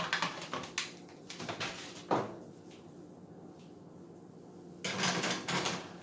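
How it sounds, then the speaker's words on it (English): A baking tray of Brussels sprouts and onions rattles and scrapes as it slides into an oven, with a cluster of clatters at the start, a pause, and another metallic rattle near the end. "Let's slide this on in the oven."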